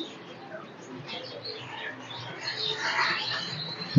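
A Pigplan-bred pigeon from a fancier's loft gives soft, low cooing calls, close and fairly faint, with light chirps and rustling around it.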